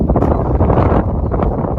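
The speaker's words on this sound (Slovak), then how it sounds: "Strašne to fúka vietor." Strong wind buffets the microphone on an early-morning kitesurfing beach near Malaga, Spain, a loud continuous roaring rumble with no pauses.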